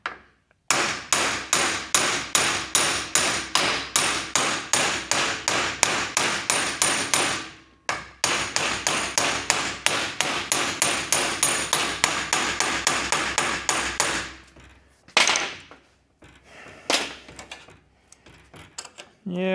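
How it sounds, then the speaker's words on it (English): A hammer strikes a vehicle U-joint in a workshop, a rapid, loud, evenly spaced run of metallic blows lasting several seconds, then a short pause and a second long run, with scattered hits and brief talk near the end. "Yeah, you can use a bigger hammer,"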